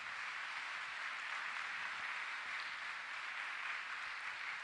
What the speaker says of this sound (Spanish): ¿Cuánto damos un aplauso fuerte al Señor por nuestra iglesia?